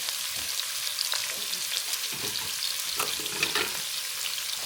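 Onions sautéing in a large soup pot: a constant, close crackling sizzle with small spattering pops and occasional stirring scrapes, no voices.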